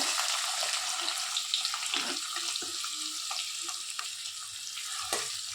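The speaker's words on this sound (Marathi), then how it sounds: "छान कांद्याला भाजून घेऊया। कलर येऊस्तर भाजून घेऊया आपण।" Chopped onion and cumin fry in hot oil in a kadhai with a constant hissing sizzle and faint occasional stirring taps.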